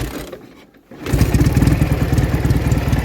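An old Soviet Ural IMZ motorcycle engine idles after a cold start. After a brief quieter moment it settles into a loud, close, rapid, slightly uneven putter with a chugging pulse.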